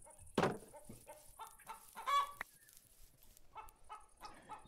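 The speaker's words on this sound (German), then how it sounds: "dann gehen wir mal kurz zu den Hühnern" Chickens in the video game Minecraft cluck in a series of short, soft, scattered clucks and a couple of louder squawks, with a faint high synthetic tone sustained in the background.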